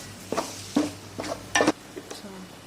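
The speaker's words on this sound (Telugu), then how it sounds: "ఇందులో కొంచెం అల్లం వెల్లుల్లి పేస్ట్ వేసుకుని పచ్చివాసన పోయేంత వరకు ఫ్రై చేసుకుందాం." Ginger garlic paste fries in a pan for a masala curry while a spoon scrapes and taps the pan in several separate strokes over a quiet background sizzle.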